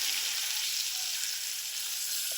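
Loud, steady sizzling as spices hit a very hot pan with butter for blackened salmon, a dense continuous hiss close up with no talking.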